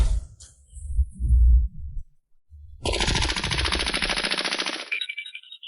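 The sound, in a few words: gunfire sound effect in an animated story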